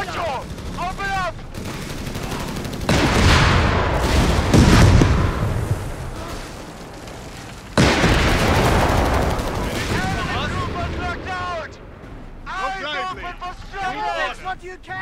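In the Company of Heroes 3 video game, battle gunfire rattles in bursts, with heavy, loud stretches of firing and explosions broken by abrupt cuts. Shouted voices come through in the quieter gaps.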